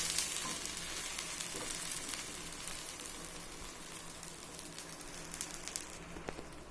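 A flipped tomato dosa sizzles quietly and steadily on a hot oiled pan, a soft continuous frying crackle with a few brighter pops near the end.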